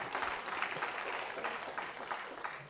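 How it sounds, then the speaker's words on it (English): An audience claps steadily through the whole stretch, a dense even patter of applause in a hall during a talk on the Vietnam era and its music. "See, there's a reason why you should hold your applause."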